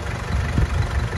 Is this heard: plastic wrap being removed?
no